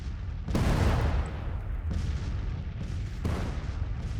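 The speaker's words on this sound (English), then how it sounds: "he's also got the artillery hitting him from the other side" Artillery fire booming across a Civil War battlefield in the strategy game Grand Tactician: The Civil War, with heavy rumbling blasts near 0.5 and 3.3 seconds over a continuous low roar of distant cannon.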